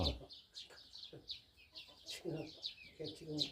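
An old five-year-old hen clucks softly in short, repeated bursts, with some chirpy bird sounds around and occasional quiet murmuring.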